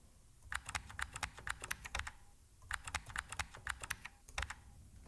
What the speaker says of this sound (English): Type command in the terminal to set up the password for Elastic username.